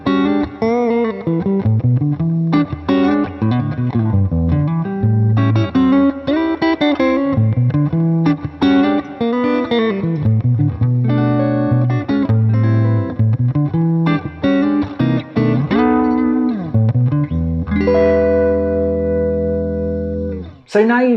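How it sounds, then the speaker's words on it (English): Electric guitar plays a 12-bar blues built on a dominant 7 sharp 9 chord, mixing chord stabs and basic blues licks, loud and close, ending on a long sustained chord. "So here's a 12 bar I put together using this dominant 7 sharp 9 chord."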